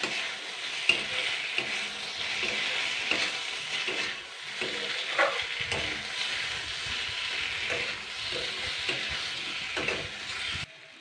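Spoon scraping and stirring a potato mixture with tomato sauce and ketchup in a pan, a steady close sizzle under repeated soft scrapes and taps, no talking.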